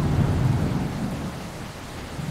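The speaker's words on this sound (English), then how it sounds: "I can't stand out there and let them dry because it's raining" Rain and thunder in the survival game Arctic Anxiety: a low, rolling thunder rumble fades under a continuous hiss of steady rainfall.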